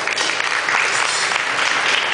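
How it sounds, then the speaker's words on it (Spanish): A short burst of loud, close applause from a group at a Murano glassblowing demonstration, evenly dense throughout with no voices. "¡Bravo, maestro! ¡Chao, un aplauso!"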